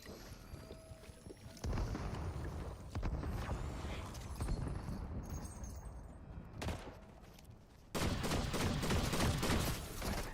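Dense, crackling bursts of gunfire from the video game Fortnite roll on continuously, loud and close, rising in intensity toward the end, with no talk over them.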